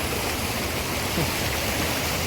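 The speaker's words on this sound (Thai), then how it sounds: "น้ำตกหัวช้าง" Hua Chang waterfall in a Thai forest gives off a steady, dense rush of falling water, unbroken and moderately loud.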